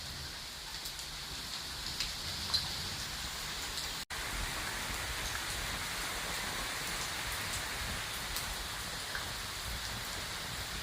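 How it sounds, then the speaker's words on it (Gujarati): Steady rain hisses evenly throughout, with scattered droplet patters and a brief dropout near the middle; moderately quiet and continuous, no voices. "હાલો ભાઈ વરસાદ આવી ગયો"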